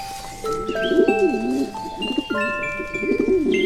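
A pet pigeon coos in soft, repeated low phrases for a few seconds, with a melodic music bed of sustained tones playing over it throughout.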